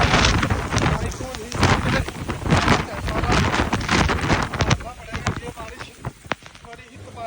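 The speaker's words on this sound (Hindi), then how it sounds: "बड़ी ही तेज़ शदीद हवा के साथ तूफ़ानी बारिश है" Stormy rain lashes down with strong, gusting wind buffeting the microphone, a loud continuous roar with surging bursts under which a person speaks.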